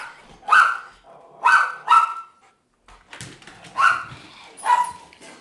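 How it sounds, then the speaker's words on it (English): Rottweiler barking during ball play, several loud close barks in pairs with a short pause between them, slight whimpery tone and no talk. "just wanted to point it since he's barking"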